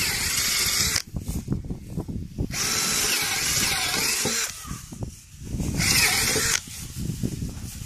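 A power drill with a thicker bit bores into wood in three bursts of loud whirring and grinding, separated by short pauses with clicks and handling noise.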